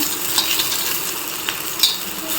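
Dry prawns sizzling over a low flame in a pan with browned onions, with close, crackling frying and a few scraping stirs of a utensil against the pan, heard alone.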